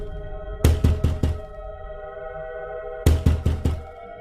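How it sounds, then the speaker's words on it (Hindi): Knocking on a house door late at night in a horror story: two separate bursts of four firm, evenly spaced knocks, close and clear over a steady low musical drone, with a quiet pause between the bursts. "फिर वह उस घर का दरवाजा खटखटाती है।"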